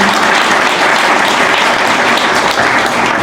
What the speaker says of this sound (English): Give my friend Dr. Park a round of applause, please.